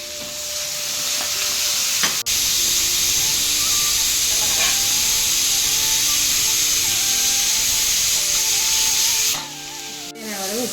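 Tomatoes sizzle and hiss steadily in hot oil in a pan with curry leaves, a loud continuous fry with occasional stirring scrapes, cooking for a South Indian chicken kulambu.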